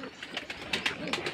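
Pigeons coo at a pigeon farm in Bangladesh, soft repeated throaty calls from several birds close by, overlapping in a quick uneven rhythm.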